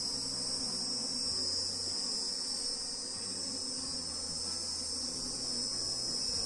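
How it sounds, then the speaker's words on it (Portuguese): Apis honeybees swarm around a beehive box whose sides were rubbed with onion, a steady dense insect buzz filling the whole stretch without pause, close and continuous with no voices. "Olha só, já tem bastante abelha."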